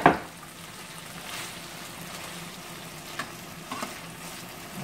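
Food sizzling gently in a pan over low heat while making baked ziti: a steady soft frying hiss, close and even, with a brief clatter at the start and a couple of faint taps later, no voices.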